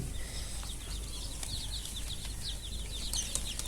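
A brood of 72 incubator-hatched chicks on a poultry farm chirp in rapid, high, overlapping peeps over a steady bed of background noise, continuous throughout with no talking.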